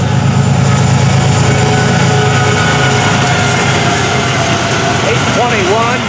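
A loud, steady rumble of FEC freight train 101 rolling past up close, with grinding metallic tones and a brief squeal near the end.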